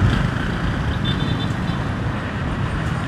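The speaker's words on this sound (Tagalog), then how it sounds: "At ito yung sitwasyon sa traffic dito." Road traffic streams past a flyover construction site in Ma-a, a steady, dense roadway rumble that holds close and loud for the whole stretch with no clear break.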